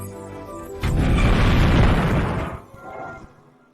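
A loud, close explosion erupts with a heavy boom and rumbles for a couple of seconds before fading, with no voices over it.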